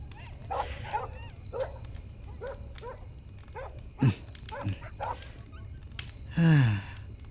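Dogs barking in a string of short, mid-distance yaps and woofs on a quiet night, with a longer whining bark near the end over a faint background hum.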